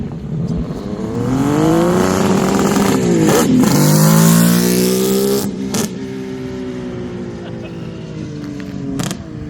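A loud Kawasaki H2 two-stroke motorcycle engine revving up and easing off nearby through its pipes, pitch rising and falling with sharp crackles, a voice briefly audible beneath.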